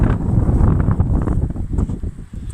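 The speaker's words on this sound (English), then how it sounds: "Probably a bit windy, I apologise for that." Strong wind buffets the microphone on a beach at a camping spot, a loud, continuous low rumble with gusty swells and no voices.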